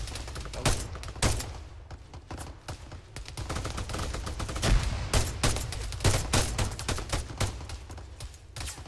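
Sustained firefight in the military game Arma 3: rapid bursts of automatic gunfire and single shots crack back and forth, loud and close, with overlapping volleys and no pauses.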